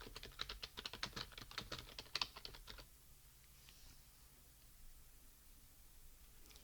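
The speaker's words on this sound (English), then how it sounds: "we are typing in shortness of breath" Rapid clicking from a computer keyboard as clinical details are typed into an emergency department ordering screen, a quick burst of keystrokes for about three seconds, then quiet room hiss.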